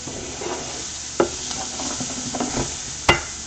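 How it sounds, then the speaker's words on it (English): Onions fry in slightly browned butter, a steady low sizzle broken by occasional spoon scrapes and a couple of sharper knocks against the pan, close by with no talk. "we want our onions to cook till they get just kind of translucent"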